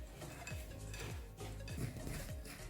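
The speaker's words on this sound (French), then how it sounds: "Je prends ma maryse et je mélange" A spatula mixes crushed speculoos biscuits and butter in a bowl: soft, rhythmic scraping strokes roughly twice a second, quiet and close, with faint clinks against the bowl.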